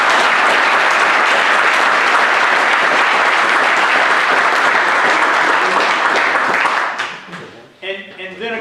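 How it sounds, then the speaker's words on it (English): An audience at an evening charity event for makers bursts into loud, sustained applause for about seven seconds, a dense wash of clapping that then drops away as a voice begins to speak. "Let's give all of them a big round of applause."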